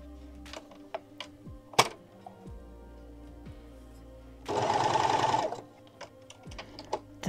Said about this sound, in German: Das Nähfüßchen wieder runter, ein Stückchen nähen.